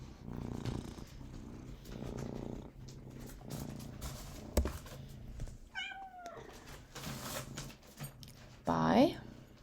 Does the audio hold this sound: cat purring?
yes